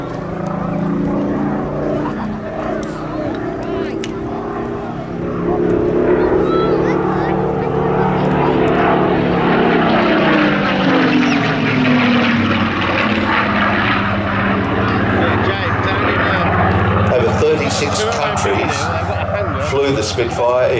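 Supermarine Spitfire PR.XIX with its Rolls-Royce engine flying at an air festival, a loud sustained propeller drone that shifts in pitch as it passes, with an announcer talking over it.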